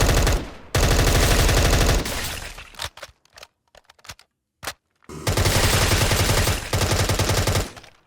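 Punisher's guns in a Minecraft superhero mod fire in loud, sustained automatic bursts, with a stretch of scattered single shots and near-silence midway before the heavy rapid fire resumes.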